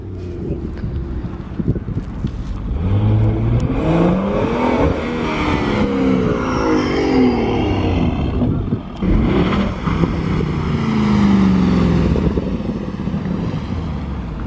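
A Mercedes C63 engine accelerates past with a rising, throaty roar, then fades as another car revs up, heard outdoors with some wind noise at a supercar gathering.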